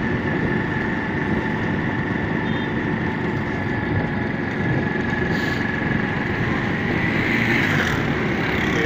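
A motorcycle engine drones steadily throughout a ride, ridden one-handed along a canal road, with constant wind rush and road noise and no break in the sound.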